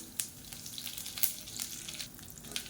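Mustard seeds, urad dal, seedless dried red chillies and curry leaves frying in hot oil, a close, steady crackle and sizzle with scattered sharper pops.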